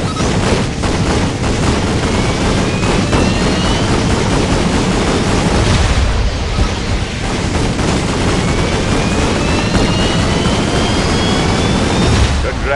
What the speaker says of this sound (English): Try firing your combustors at once to deliver a supercharged blast of power.